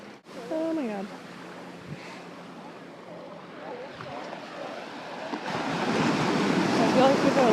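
Ocean waves wash up onto a beach, the surf starting as a soft background rush beneath a person's voice and swelling into a louder, closer roar in the last couple of seconds.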